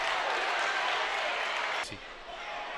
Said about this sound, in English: That's going to get the crowd excited.